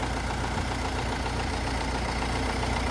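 A heavily loaded vehicle stuck in mud, its engine droning at a steady, loud, rough pitch as the wheels spin without gaining traction, constant throughout and with no voices.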